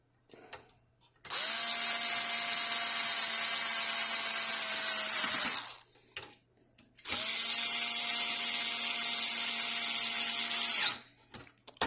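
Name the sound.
screwdriver tightening hard drive screws in a Hikvision DVR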